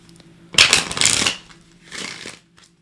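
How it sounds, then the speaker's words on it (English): Quick riffling bursts of tarot cards being shuffled, two close flurries followed by a softer third, fairly near and with no one speaking. "I'm going to shuffle these real quick."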